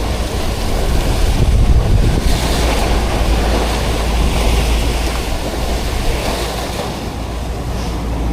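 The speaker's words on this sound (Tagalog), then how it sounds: "Grabing alon ba?" Large Pacific Ocean waves crash and surge around a boat at sea, a loud continuous roar of surf and water with heavy wind buffeting the microphone and no talking.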